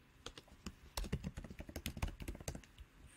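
Code being typed on a computer keyboard: a close, quiet run of rapid, irregular key clicks, with no voice over it.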